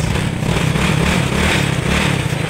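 A Yamaha Mio motorcycle engine runs without a battery, a close, steady, buzzy idle that continues unbroken throughout.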